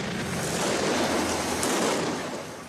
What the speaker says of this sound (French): Ces explosions très bruyantes désorientent les manifestants.